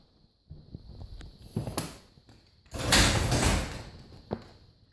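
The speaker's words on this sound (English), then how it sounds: "Crack the garage door barely open." A garage door being cracked barely open: faint clunks and scraping mechanism noises, a few short knocks, then a louder rolling rattle for about a second, ending with a final thunk, no talking.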